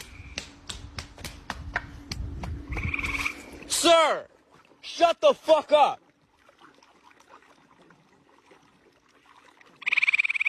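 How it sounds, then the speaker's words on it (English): Frog croaks come in a quick series of short, loud calls near the start, followed by a few more bursts after a pause, with someone shouting angrily between them. "Swear to God, if I hear one more frog"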